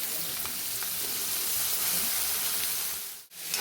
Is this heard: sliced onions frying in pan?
yes